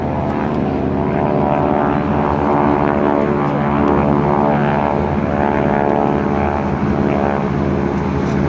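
GEICO Skytypers propeller airplanes fly a turning rejoin at an air show, giving a steady, loud, continuous engine drone with a wavering, layered hum from several planes that persists throughout.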